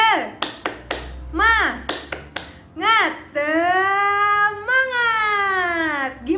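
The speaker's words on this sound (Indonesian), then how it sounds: "Tepuk semangat." A primary school class performs a rhythmic spirit clap, sharp clustered claps in a patterned beat alternating with children's voices chanting together in unison, loud and close.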